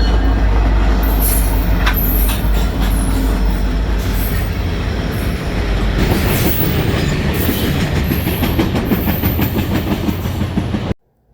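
A CN freight train rolls past close by, a loud steady roar of wheels and cars with squealing and rhythmic clickety-clack, running continuously before cutting off abruptly at the end.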